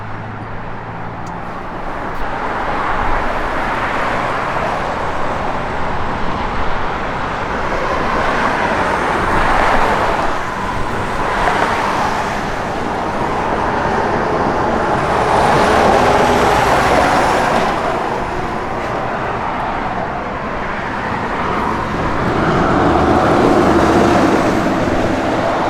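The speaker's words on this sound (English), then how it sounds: "good sounding exhaust" The V8 exhaust of a 1970 Dodge Super Bee runs in a steady, loud, broadband rumble that swells and eases gently over about twenty-five seconds, with no talking.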